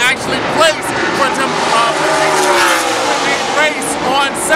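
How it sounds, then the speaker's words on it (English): NASCAR race cars run hard on qualifying laps at the Folds of Honor 500, heard from a high grandstand level as a loud, continuous engine roar that swells and fades as cars come around the bend, with voices talking over it. "As you can see, the cars are now in their qualifying laps."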